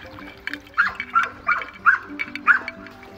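A duck-hunting dog gives a series of short, loud yips and barks about every half second, close by, with whimpery edges and a hint of water nearby.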